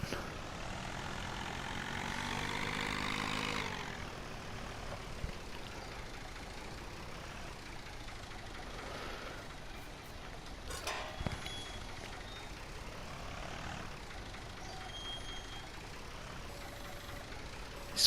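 Tractor engine in Farming Simulator 19 runs steadily throughout, a continuous mid-level drone that swells and roughens briefly early on, with a sharp clank partway through.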